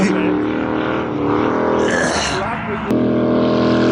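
A Volvo station wagon with a 5.0 engine revs loudly and steadily nearby at a drift event, with a brief dip in pitch before it roars back up.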